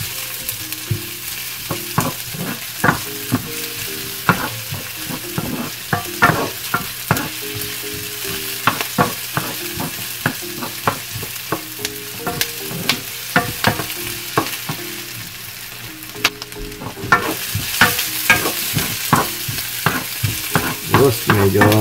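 Chopped pork cooking for lechon paksiw sizzles steadily in a pan while a utensil stirs and scrapes repeatedly, giving clattering knocks over the constant frying hiss.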